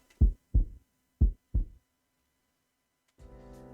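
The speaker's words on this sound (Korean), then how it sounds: "심장 소리가 시끄러워서 잠을 잘 수 없을 것 같다" A loud heartbeat sound effect thumps four times in two paired lub-dub beats, deep and close, then falls silent before a soft musical tone enters.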